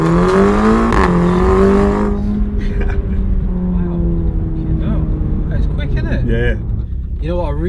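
An Audi TTS or TTRS engine revs up loudly and close, then settles into a steady driving drone as someone talks over it.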